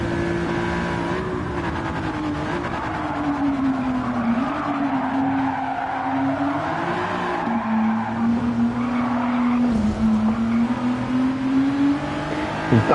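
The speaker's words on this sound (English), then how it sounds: "This car sounds great, actually." A race car engine in Gran Turismo 7 drones loudly and steadily at high revs, its pitch dipping and climbing through gear changes, with some tire squeal and no talking.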